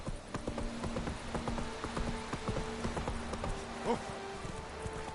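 A horse trots in The Witcher 3 video game, its hooves clip-clopping in a steady, fairly close rhythm for several seconds with light background ambience.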